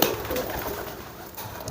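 Pigeon cooing softly nearby, a low steady coo repeating through the moment with no voices over it.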